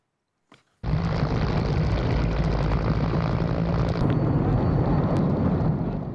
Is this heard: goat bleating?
no